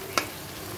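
Onion-free spice masala with turmeric being sautéed in a pan for a banana-flower dish, a soft continuous sizzle with one sharp utensil clink near the start.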